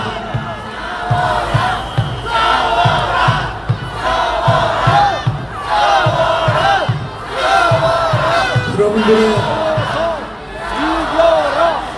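A crowd at a candlelight impeachment rally chants and cheers in rhythmic unison, many voices rising and falling in repeated shouted phrases over steady drum-like beats, loud and close throughout.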